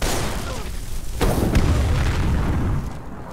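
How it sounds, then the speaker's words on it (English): Explosion in Skyrim, a sudden loud boom partway through followed by a lingering rumble that fades near the end. "Oh, you just exploded."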